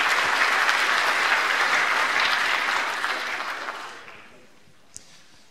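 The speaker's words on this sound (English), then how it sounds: "So round of applause for yourselves." Applause from a conference audience of innovators, a dense steady clatter of many hands that fades out after about four seconds, leaving near silence and one sharp tap.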